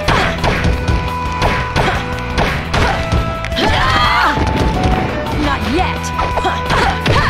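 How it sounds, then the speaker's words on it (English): Fighting hits thud and whack in Naruto: Clash of Ninja Revolution on the Wii, loud impacts over dense game music and effects, with brief character voice lines. "I'm gonna kick your butt, believe it!"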